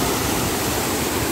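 Heavy monsoon spray from the Mangeli waterfall in Konkan pelts the camera, a loud, dense, continuous roar of rushing water and spattering droplets close to the microphone, with no voices.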